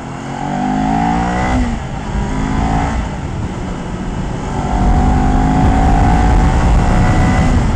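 A Kawasaki Ninja 400 motorcycle engine revving up through the gears, loud and close, its pitch climbing and dropping at shifts before pulling strongly again at higher rpm, with steady wind roar and no speech.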